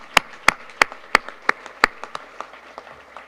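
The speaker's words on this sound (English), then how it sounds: "let's give them a round of applause" Audience applauding after birthday wishes at an annual event: a string of sharp, evenly spaced claps ringing out loud and close, then thinning into softer, scattered clapping from a small group.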